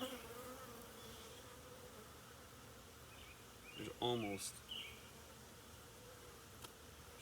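Honey bees buzzing steadily inside a crowded hive, a dense continuous hum with a brief word spoken partway through.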